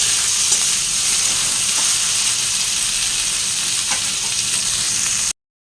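Vegetables with chopped green chilli frying in a pan, a steady close hiss and sizzle running unbroken before cutting off abruptly at the end.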